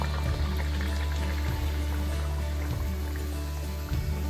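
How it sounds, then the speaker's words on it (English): Puris deep fry in oil over a medium flame, giving a dense, continuous sizzle and bubbling close by, with a few louder crackling bursts. "While deep frying puris"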